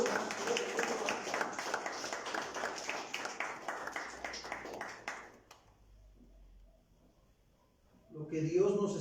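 Congregation clapping during a Spanish-language church service, brisk rhythmic applause for about five seconds that stops abruptly, leaving near silence before a voice returns loudly at the end.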